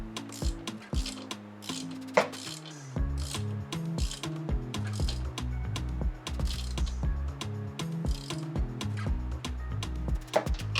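A ratchet wrench clicks in quick bursts while tightening a motorcycle rear axle nut, the sharp metallic pawl ticks coming close and clear, separated by short pauses and occasional clunks.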